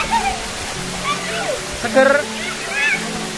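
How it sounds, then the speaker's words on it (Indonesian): Water rushes down the Montel waterfall in a mountain area, a steady broad wash under people talking nearby. "Air terjun Montel ning kawasan pegunungan Sunan"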